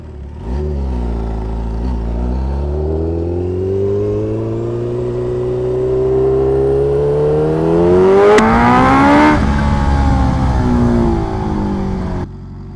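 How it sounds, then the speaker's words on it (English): A Kawasaki H2R motorcycle accelerating hard: the engine note climbs steadily through a long pull, a brief shift break comes near the end, then it winds up again. The engine is loud and close, with no talk. "Man, this bike just takes off."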